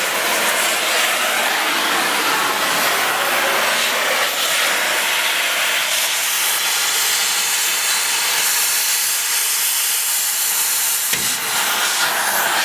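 A cutting torch slices through steel U-bolts during a 6-inch lift install on a Blazer, giving a loud, steady roaring hiss that runs almost unbroken with one brief dip near the end.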